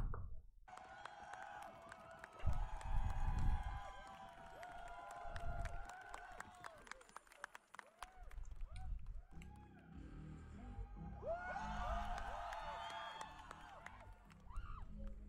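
Arena crowd at a performance at Tu bije serce Europy 2023, captured on a phone: distant, roomy cheering and shouting swells under and around amplified live music, fairly faint overall.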